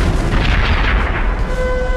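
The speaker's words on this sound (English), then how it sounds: "Napoleon ordered a barrage of his most powerful cannon" Cannon artillery barrage from a Napoleonic battle, a dense, continuous low rumble of booms, loud and heavy with no talk over it.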